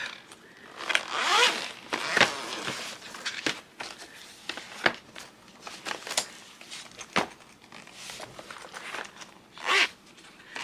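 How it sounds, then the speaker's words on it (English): Zippers on small book-like pencil pouches being pulled closed, several quick close rasping zips in bursts with handling rustles and soft clicks between them, no talking. "Let me zip these up."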